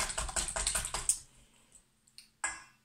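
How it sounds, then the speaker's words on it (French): A whisk beats eggs in a bowl for a banana cake batter, with rapid, rhythmic metallic clicking for about a second, then a few soft, isolated taps. "avec mon fouet, je vais mélanger mes œufs, pour faire comme une omelette"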